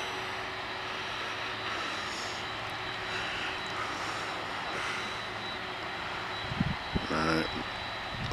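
Airliner engines at Manchester Airport give a steady, moderately loud roar that holds throughout, with a few thumps and a rougher burst near the end. Muffled talk sits underneath.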